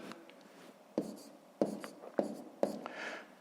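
A pen writes numbers on paper while working a column multiplication of 114 by 0.7, giving quiet scratchy strokes with four sharper taps or pen-downs, close and alone with no talk.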